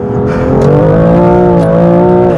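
A BMW M2 Competition's engine revs hard and climbs in pitch as it accelerates on a race track, loud and close, a strong steady roar over about two seconds.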